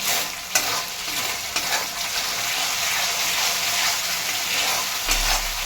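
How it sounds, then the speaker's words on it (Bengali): Spice paste for capsicum paneer sautés in oil, a loud, steady, close sizzle with occasional sharp knocks of a spoon against the pan. "দেখুন ভালো করে মশলাটা কষানো হয়ে গেছে"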